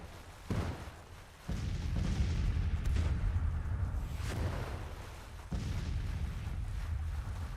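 Counter-battery cannon fire in Grand Tactician: The Civil War, several deep booms of artillery, each followed by a long rumbling roll, and a few sharp reports over steady background battle noise.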